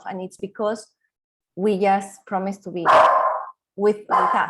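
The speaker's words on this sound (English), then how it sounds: "every time I have a neighbor outside, he starts barking." A pet dog barks loudly, a short burst of barks near the middle, between and over a person's talking.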